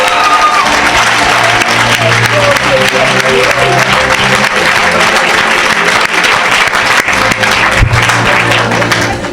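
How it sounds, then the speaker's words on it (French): An audience at a church gathering claps and cheers to acclaim Jesus, loud, dense applause that runs throughout with voices mixed in. "Oh, acclamez Jésus."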